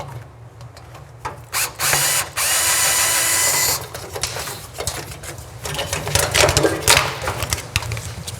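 Tools work on bolts of an abandoned car: clicking ratchet turns and mechanical rattles, broken by a loud sustained power-tool whir lasting a couple of seconds, then more close clattering metal work.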